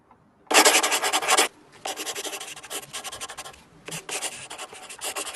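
A pen or pencil writes out numbers on paper in three broad scratching bursts with short pauses between, close and fairly loud, with no talking.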